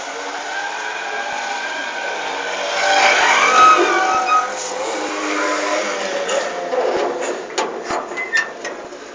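Traffic passing along a highway, a steady broadband road hum with one vehicle swelling past around the middle and a few sharper whooshes later, no talk.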